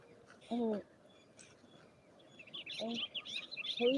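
A flock of birds chirps outdoors around sunset, quick faint tweets scattered through the clip, with a few louder calls nearby and light bursts of chatter rising toward the end.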